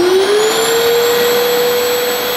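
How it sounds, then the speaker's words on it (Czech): A Bosch GAS 18V-12 MC cordless vacuum cleaner with a brushless BiTurbo motor spins up quickly to a steady, loud, high-pitched whine that holds even and alone throughout. "A vysavač běží."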